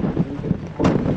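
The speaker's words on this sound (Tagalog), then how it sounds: "So windy." Strong gusting wind at the Fansipan mountain peak in Sapa, Vietnam, buffeting the microphone in rough, low roaring bursts with a sharper gust near the end.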